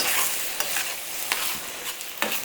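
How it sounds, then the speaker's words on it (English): Chopped olives being stirred into sizzling beef picadillo for tacos, a steady hiss of frying broken by a few scraping spoon strokes against the pan, close and moderately loud, with no voices. "And then I'm going to stir all of that together."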